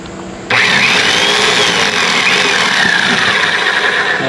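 A Bauer SDS rotary hammer drill snaps on abruptly and keeps running at steady speed, giving a loud, close, continuous motor whine with a buzzy rattle and no talking.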